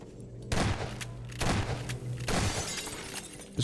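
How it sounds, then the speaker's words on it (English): Bursts of SMG gunfire in Half-Life 2 breaking an obstacle: three rapid, loud volleys about a second apart, each trailing into a short crash of debris. "Just break that with the SMG, not the shotgun."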